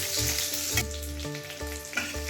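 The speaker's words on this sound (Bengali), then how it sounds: "মাছ ভাজা তেলেই আমি আলুগুলো সিদ্ধ করে দিয়েছিলাম, আমি একটু ভেজে নিচ্ছি।" Parboiled potatoes fry in oil that was first used to fry fish for hilsa biryani, giving a loud, close, continuous sizzle with a few bubbling bursts as they are stirred, without any talking.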